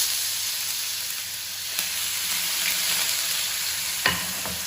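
Pointed gourd seeds, green chili and turmeric frying in a pan, a steady close sizzle with soft stirring scrapes and a couple of sharp clinks near the end.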